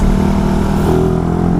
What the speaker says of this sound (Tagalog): Ito yung motor natin